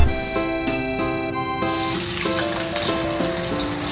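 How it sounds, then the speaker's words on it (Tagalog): Potatoes frying in a pan for a classic Filipino dish give a steady, bright sizzle with occasional clinks and scrapes, while a tonal musical bed plays underneath throughout. "Sa part naman na to, ay piniprito ko muna ang patatas."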